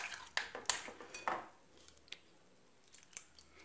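A spoon stirs passion fruit juice into a cake filling, giving several quick clinks and scrapes against the bowl, then a quieter pause and a few faint scattered taps. The sound is close and soft, with no voices.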